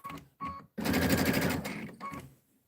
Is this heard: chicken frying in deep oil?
no